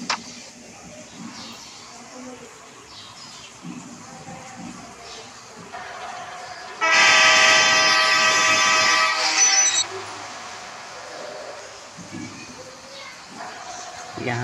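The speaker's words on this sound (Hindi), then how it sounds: "यहाँ से ट्रेन चलेगा" A train in the Indian Bike Driving video game, with a loud rumbling rush and horn-like tone passing for a few seconds in the middle while someone talks before and after.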